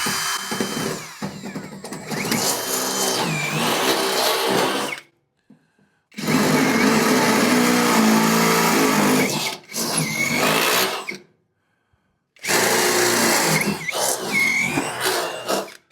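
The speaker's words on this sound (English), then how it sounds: "Making these holes a little bit large." A power drill enlarging holes in a brake bracket for a 1941 Mercury, heard in several loud, close bursts of whirring separated by short silences.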